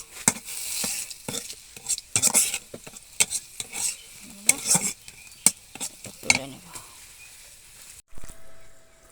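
Chilies and onions frying in oil for an eggplant bharta, heard as close, irregular stirring and scraping bursts over a steady sizzle, ending in a brief quieter pause.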